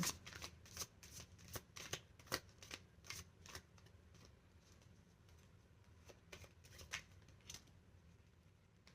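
Tarot cards are shuffled close up, a run of quick crisp riffling flutters and slaps in irregular bursts, quiet and alone with no voices over them.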